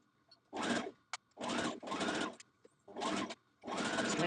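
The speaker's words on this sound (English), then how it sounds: "So put it under your sewing machine." Sewing machine stitching a dress seam on a Vogue 1236 pattern, running in four or five close bursts of whirring with short pauses between, loud and near with no talking.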